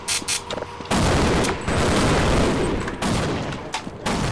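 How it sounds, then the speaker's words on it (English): Heavy airstrike explosions in Half-Life, long, loud roaring blasts that rumble on, broken by brief gaps and the crackle of gunfire. "Airstrike."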